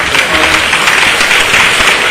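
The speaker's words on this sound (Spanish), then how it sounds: "vamos a darle otra vez un aplauso a esta" Church congregation applauding during a service, a dense, steady wash of clapping that stays loud and even for about two seconds with no pause.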